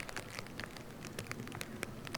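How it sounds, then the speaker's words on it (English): Rain beginning to fall on a wooded disc golf course at a Seattle-area park, a soft steady patter of scattered drops with sharper taps close by, quiet and continuous with no talk. "I believe it did start raining on this hole."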